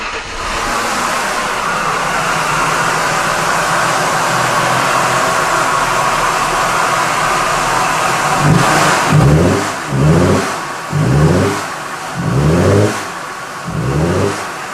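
A car engine idles steadily, then is revved in a series of about six short, evenly spaced bursts that rise and fall, close and loud, with no talking.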